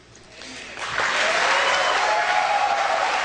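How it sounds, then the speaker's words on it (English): Applause from a presidential debate audience swells after about a second into loud, sustained clapping with some crowd noise, continuing steadily to the end. "Hold the applause."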